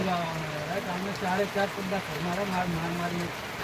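Steady morning rain hisses continuously throughout, a dense even wash of falling water, while a person talks over it the whole time.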